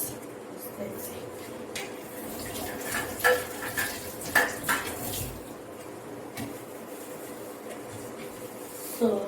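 A small pot cover being set down inside a second pot while making Ghana sweet bread, giving a few light metallic clinks and knocks close by, with kitchen clatter and someone speaking throughout.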